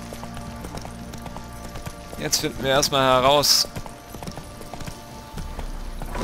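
Horse hooves clip-clop in The Witcher 3: Wild Hunt, steady and mid-distance, with someone talking over them and the hoofbeats swelling in the middle of the stretch.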